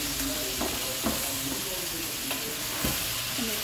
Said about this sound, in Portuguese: já tá fritando a carne